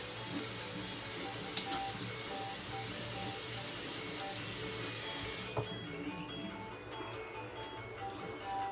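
Tap water runs steadily while shave cream is rinsed off, a loud broadband rush that cuts off abruptly near the end, leaving a quieter room with faint tones.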